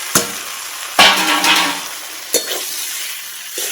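Prawns, jackfruit and potatoes tossed into fried spice masala in a pan, a low steady sizzle punctuated by three or four sharp spatula scrapes and knocks, close and fairly loud, no speech.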